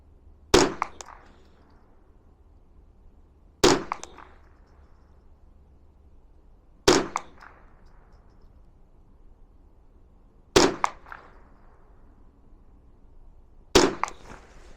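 Five spaced single shots of Aguila standard velocity subsonic ammunition crack out sharply at the range, each followed by a short decay and several seconds of quiet between them.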